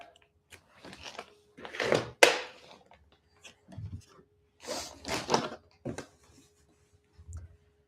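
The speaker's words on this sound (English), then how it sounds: "So Parker, could you grab me a scissors from the kitchen drawer?" Wooden scraping and sliding clunks of a kitchen drawer pulled open and rummaged through for scissors come in several bursts with quiet pauses between.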